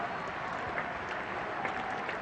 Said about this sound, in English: And applause for the bowler, relief all round.